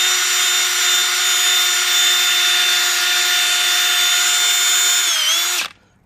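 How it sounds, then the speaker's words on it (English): A power drill fitted with a wire brush attachment scrubs rust off a metal smoker, giving a loud, steady high-pitched whine that holds for several seconds and then cuts off abruptly. "I put a wire brush inside of my my drill here"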